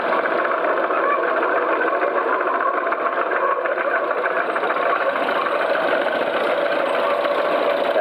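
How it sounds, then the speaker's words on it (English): A John Deere Lindeman crawler tractor tows a seven-furrow mouldboard plough, its engine running in a steady, close, knocking chug throughout, with no voices. "John Deere Lindemann tractor crawler."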